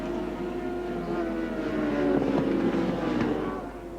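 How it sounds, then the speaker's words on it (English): Racing sidecar outfits powered by LCR 500 Yamaha engines at Oran Park in the 1989 Australian Sidecar Championship, a steady engine drone that swells toward the middle and then fades slightly, heard at a distance with some wind across the microphone. "Graham Biggs up into third place on the genuine LCR 500 Yamaha"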